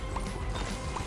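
In The Binding of Isaac: Repentance, a game horse gallops in quick, soft clip-clop hoofbeats that repeat rhythmically over about a second at moderate volume.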